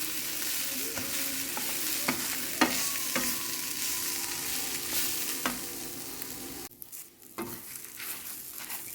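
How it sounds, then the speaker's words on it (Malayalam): A coconut mixture with curry leaves is roasted in a pan until browned, a steady close sizzle broken by periodic scraping stirs and light taps, easing off near the end, with no speech. "ഇനി കുറച്ചും കൂടെ അല്പം കൂടെ ബ്രൗൺ കളറാവുന്നത് വരെ നമുക്കൊന്ന് ഇത് വറുത്തെടുക്കാം."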